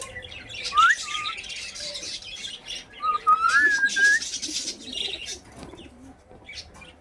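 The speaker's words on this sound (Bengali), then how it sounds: "এই পাখিটি হালকা কথা বলতে পারে ও শিস দিয়ে গান গাওয়ার চেষ্টা করতেছে" A cockatiel whistles in rising, wavering tones, two short phrases over a busy background of chirps and flapping.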